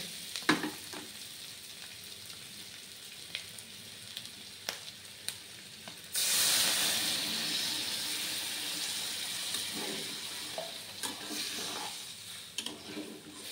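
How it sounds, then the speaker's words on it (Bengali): Fried mutton sizzles quietly with occasional spoon clicks until water hits the hot pan, setting off a sudden loud rushing hiss of steam that slowly fades back to a bubbling simmer. "এবার এতে একটু জল অ্যাড করে দেব।"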